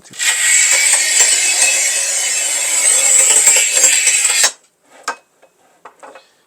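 A tile cutter scores a 10 mm porcelain stoneware tile in one loud, steady, harsh scrape of about four seconds, then stops, leaving a few faint clicks and knocks.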